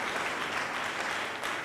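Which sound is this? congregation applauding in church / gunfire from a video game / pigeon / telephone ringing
congregation applauding in church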